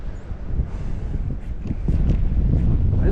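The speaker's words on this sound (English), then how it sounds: "The wind is just pushing so hard, it's making it float." Strong wind blows across a lake during fishing, buffeting the microphone with a low, steady roar that builds slightly toward the end, with no other clear sounds.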